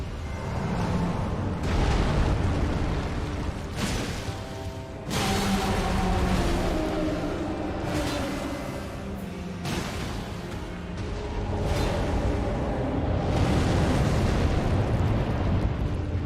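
Bomb blasts in the video game Elden Ring, several loud booming bursts spread across the stretch with rumbling tails and whooshes between them, set within dense game audio.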